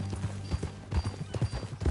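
Horse hooves in a video game clip-clop at a steady walking pace, fairly close, with a low rumble and some background noise underneath.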